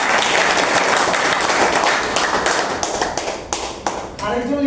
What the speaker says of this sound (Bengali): দাঁড়ানো লিডারের জন্য একটা করতালি হবে না?